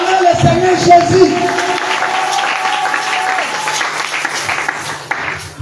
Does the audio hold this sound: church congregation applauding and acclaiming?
yes